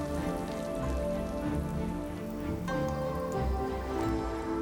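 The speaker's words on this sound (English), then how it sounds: "Slowly add the battered shrimp to the hot oil." Battered shrimp deep fry in hot oil for tempura, a dense, steady sizzle and crackle that stays close and even throughout, with no voices.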